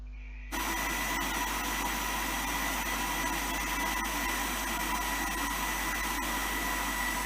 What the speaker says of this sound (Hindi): अब हम इसे मशीन में रख के ब्लेंड कर लेंगे।